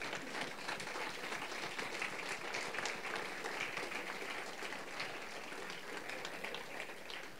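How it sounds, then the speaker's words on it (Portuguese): A congregation standing at a Portuguese-language church service applauds, a soft, distant and steady patter of many hands clapping that carries on evenly. "E vamos dar um aplauso ao Senhor Jesus, mais forte que você puder."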